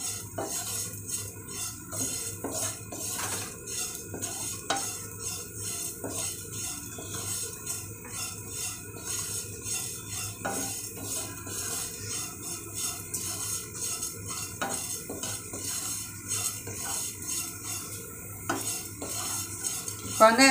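Poha (flattened rice) is stirred and dry-fried in a nonstick pan, with a spoon scraping and rattling steadily against the pan over a soft continuous sizzle, close and without talk.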